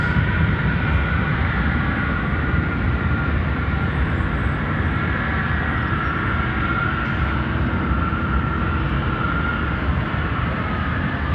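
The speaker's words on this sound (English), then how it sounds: "We have also United 757-300 going around" A United Boeing 757-300 goes around at O'Hare airport, its jet engines producing a loud, steady broadband roar that holds constant throughout with no gaps.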